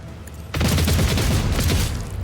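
Rapid gunfire in Warhammer 40,000: Rogue Trader, a loud dense burst of overlapping shots starting abruptly and rattling on for nearly two seconds before tapering off.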